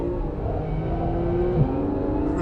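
A Porsche 911 engine drones hard and steady through a corner, with a brief dip in pitch as the throttle eases before the revs hold again.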